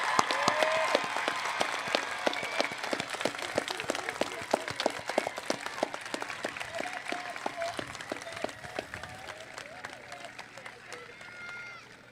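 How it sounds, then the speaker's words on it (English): A crowd applauds the graduating class of 2021 at a high school graduation ceremony in South Carolina, with a dense, steady patter of many hands clapping that gradually thins and fades toward the end. "How about one more round of applause for the class of 2021?"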